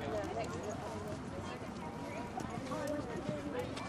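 Horses cantering in a show ring during a hunter class, a dense patter of hoofbeats over a busy arena background while an announcer talks.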